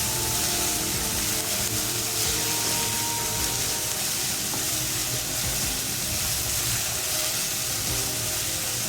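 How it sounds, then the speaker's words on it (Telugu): Onion paste and ginger-garlic paste fry hard for mutton curry, making a loud, dense sizzle that holds steady throughout with constant stirring texture underneath. "అల్లం వెల్లుల్లి పేస్ట్ ఆనియన్ పేస్ట్ ఉల్లిపాయ కూడా బాగా వేగిపోయింది"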